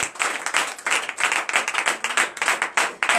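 A church congregation at a Sunday service applauds, many hands clapping in a brisk, fairly even rhythm, close and steady throughout.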